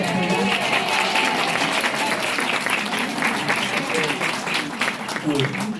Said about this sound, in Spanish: hace un aplauso para el doctor Peregriniano